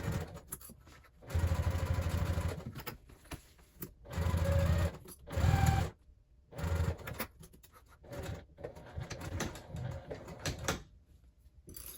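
A sewing machine stitches the seam of a crossbody bag in several bursts of rapid whirring, with short pauses between runs, close and fairly quiet.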